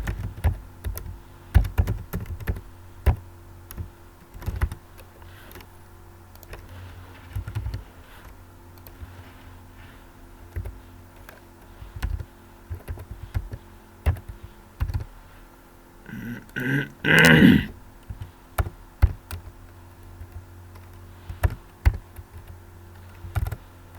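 Typing on a computer keyboard while entering text in a Word document, a steady run of close, light key clicks with uneven pauses and a brief louder burst of clatter near the end.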